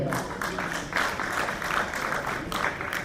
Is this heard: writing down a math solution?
no